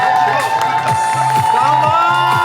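A crowd at a spoon balance game during the Epcot Flower and Garden festival at Disney World cheers and shouts loudly and continuously, with rhythmic clapping and excited voices close by.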